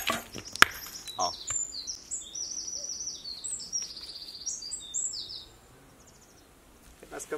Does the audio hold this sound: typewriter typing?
no